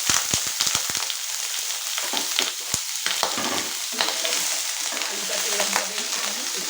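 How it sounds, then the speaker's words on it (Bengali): Potatoes fry in hot spiced oil in a pan, a steady near sizzle punctuated by sharp clacks and scrapes as they are stirred and tossed. "আলুটাকে এরকমভাবে লাল লাল করে ভেজে নিতে হবে।"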